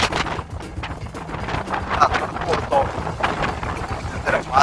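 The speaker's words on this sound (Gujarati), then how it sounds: "વાવાઝોડું" Strong summer storm wind gusting in a village, a steady rushing roar with surging gusts and rustling debris, with people talking over it.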